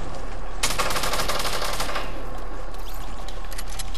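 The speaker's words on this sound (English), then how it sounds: "Is somebody shooting at us from the side," Rapid automatic gunfire in a multiplayer shooter video game, a dense burst of rattling shots near the start that fades into scattered, quieter pops with no talk.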